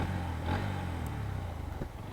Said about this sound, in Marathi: व्हिडिओमध्ये आता चेक करावं लागेल की बाईकचा आवाज कसा येतो आहे